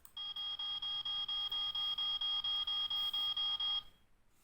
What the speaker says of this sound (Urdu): یہ فائر بریگیڈ والی آواز تھی